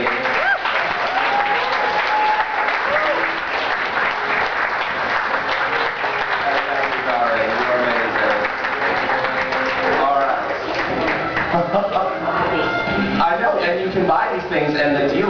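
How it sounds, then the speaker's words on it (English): Audience applause for designer Daisy Viktoria at an anime convention fashion show, a dense, steady wash of clapping lasting throughout with crowd voices and cheers mixed in. "let's have a round of applause for Daisy"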